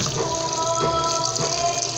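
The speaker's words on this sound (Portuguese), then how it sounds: "Eu tô colocando aqui pra reaproveitar a água, né?" Water is poured and run into a container for reuse after washing, a steady rushing, splashing flow close by and continuous throughout.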